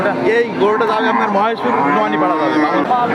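A cow lets out a long, loud, drawn-out moo close by, wavering in pitch before trailing off, at a cattle market.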